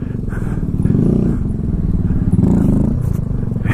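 A Kawasaki Z125 motorcycle is ridden through a wheelie, its small engine droning steadily and loudly close by with slight swells in pitch and some rattling clatter.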